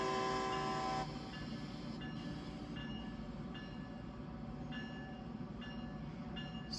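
Train rolling along the Northeast Corridor in Train Sim World 5, a steady rumbling drone of rail running with a loud horn note at the start and faint periodic clanks after it, no talking.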